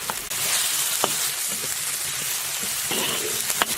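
Pork, potatoes, carrots and tofu sizzle steadily in a hot wok for a traditional northern Shaanxi dish, with a continuous frying hiss broken by a few sharp spatula scrapes and clicks.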